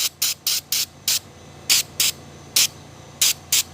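A series of short, sharp trigger sprays of foam air filter cleaner in uneven clusters, hissing close to the mic, eleven squirts in all over a quiet background.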